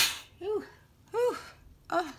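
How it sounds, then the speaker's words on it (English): A person sneezes at a craft table while making artist trading cards from jelly prints: three close, voiced bursts about half a second apart, each rising then falling away, with quiet pauses between. "Sorry, I'm going to sneeze."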